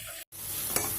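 Chopped vegetables for chowmein sizzle steadily in a hot pan over a high flame while stirred with a frying spoon, a loud continuous hiss with a brief gap and a light scrape of the spoon.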